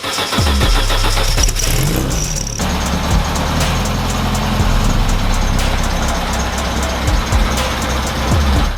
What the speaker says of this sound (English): the car was running fine, so I took it for a bit of a test drive